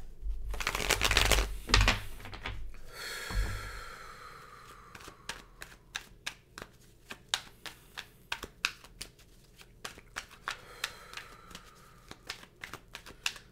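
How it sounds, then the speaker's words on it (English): Tarot cards are shuffled with a brief riffle, then a series of light, irregular taps and clicks as they are cut and handled close by. "I'm doing a live shuffle."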